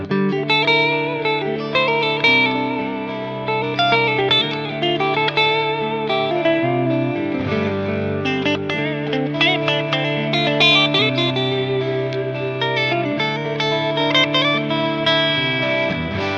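Self-built Gibson-style electric guitar plays a sustained lead line through heavy Valhalla Supermassive reverb, with long shimmering tails blending over a steady backing part, loud and continuous without any talking.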